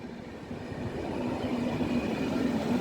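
A passenger train with a combined carriage and second-class carriages rolls through Warszawa Wschodnia station, a steady mid-distance rumble with a faint humming tone that swells slightly.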